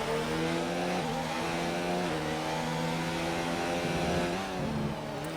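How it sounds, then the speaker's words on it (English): A race car engine glitches during a Division 1 race in Austria, a loud steady engine drone with a few brief stutters and dips in pitch, heard alone. "You just hear Dominic's engine glitch from here."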